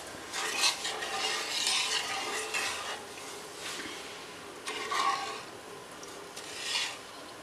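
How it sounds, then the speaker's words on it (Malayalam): Milk for homemade condensed milk stirred in a pan on a high flame, with repeated scraping spoon strokes against the metal at an uneven rhythm, close and fairly soft, with no talking. "കുറച്ച് നേരം ഒന്ന് ഇളക്കി കൊടുക്കുക."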